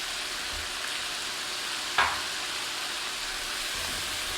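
Chopped onions, carrots and celery fry in a pan with a steady, even hiss and a single sharp tap near the middle, and no one speaks.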